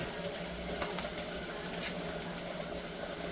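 Mustard seeds crackle and pop in hot oil while onions fry, giving a steady, close sizzle that holds the whole time with small pops scattered through it.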